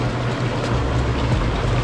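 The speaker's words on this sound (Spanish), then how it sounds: "en el jacuzzi con esta agua calientita." Hot water churns and bubbles in a jacuzzi at a mountain rental house in Jayuya, a loud steady rushing froth with a low motor hum underneath, no voices.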